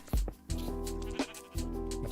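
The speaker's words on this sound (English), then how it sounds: "But it's a sheep." A Minecraft sheep from the Fossils and Archeology mod bleats several times in a row, each cry a short, nasal, wavering bleat, close and clear against a quiet game backdrop.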